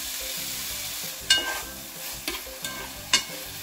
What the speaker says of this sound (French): Ensuite j'ai fait suer mes oignons dans cette huile là.